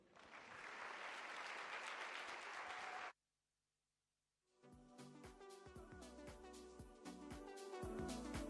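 An audience at a Casual Day 30th anniversary celebration bursts into thick, sustained applause, which cuts off abruptly into near silence before music with a steady beat rises in.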